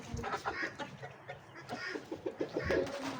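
Small chicken with an upright comb clucking in a series of soft, close calls, with faint bird sounds around it.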